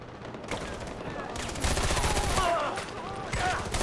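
Gunfire from a Far Cry 4 firefight on hard difficulty, a dense burst of overlapping shots and rattling automatic fire running throughout, loud and close, with a voice speaking briefly amid the shooting.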